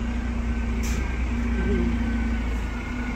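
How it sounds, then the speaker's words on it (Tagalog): Garbage truck collecting trash beside a house, a steady low diesel engine rumble idling close by with a brief hiss, continuous throughout. "Ito yung truck na dumadampot ng basura."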